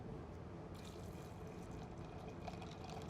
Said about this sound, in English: You're going to pour the coffee,